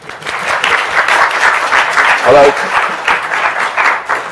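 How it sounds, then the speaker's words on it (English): A lecture class gives a round of applause, steady dense clapping throughout with a voice briefly speaking over it partway through. "he has asked the class to help him celebrate it with a round of applause"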